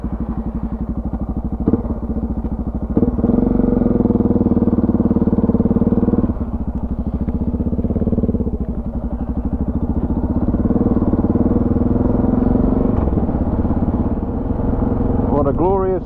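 Suzuki DR 650 dual-sport motorcycle riding on an open road, its single-cylinder engine droning steadily with occasional thumps and wind buffeting, and a rider talking over it.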